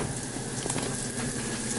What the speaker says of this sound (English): I'm gonna add to the bacon, which is cooking up.